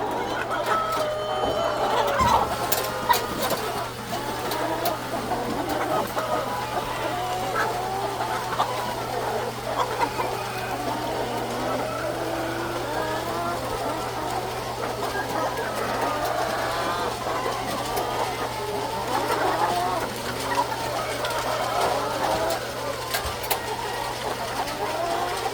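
Thousands of chickens on a large poultry farm cluck and squawk in an overlapping chorus, with scattered nearer calls over a steady low mechanical hum throughout.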